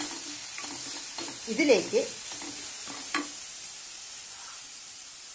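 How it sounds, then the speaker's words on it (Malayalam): A chili powder mixture for beetroot rice is stirred in a hot pan, with a cluster of scraping strokes over a soft sizzle that then fades. A voice says a single word at the start. "മുളക് പൊടിയുടെ എല്ലാം ചൊയ മാറുന്നതിന് വേണ്ടിയാണ് നമ്മൾ 2-3 തവണ ഇളക്കുന്നത്."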